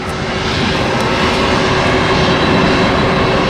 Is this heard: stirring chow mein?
no